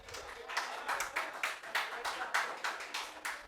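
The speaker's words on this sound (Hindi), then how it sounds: "कौन रहे इतनी ताली बजा रहे जोर जोर से?" Loud, steady clapping from a crowd of students in a lecture hall, a rhythmic run of sharp claps at a quick, even pace continuing throughout.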